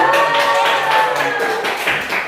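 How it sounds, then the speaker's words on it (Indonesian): Students in a classroom applaud together on cue, a brief burst of dense hand claps over a low sustained tone, ending quickly. "Oke, tepuk tangan"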